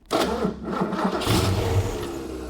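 A 347 stroker V8 engine cranks and fires up, then settles into a loud, rumbling idle with a slightly uneven lope, heard close by with no talking.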